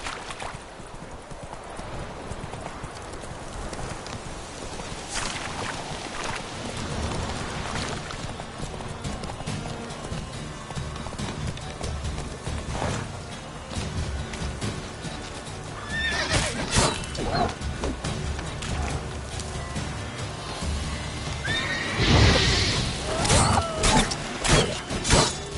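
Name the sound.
horse Roach galloping and neighing, from a Witcher video game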